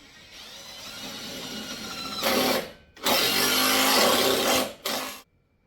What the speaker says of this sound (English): as I started drilling, I realized that it's really loud